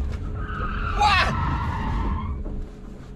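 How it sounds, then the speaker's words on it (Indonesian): An electric car's tires skid and squeal sharply as it spins during a figure-of-eight drifting run, with a loud screech rising then fading over a steady roar. "itu tenaga langsung datang dan langsung muter balik, mobilnya spin"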